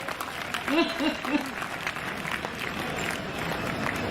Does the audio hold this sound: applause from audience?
yes